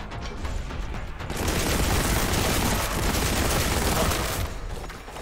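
Enemy fire in the Warhammer 40,000: Boltgun video game, a loud continuous rattle of gunfire with booming low impacts, swelling in the middle and fading slightly at the end.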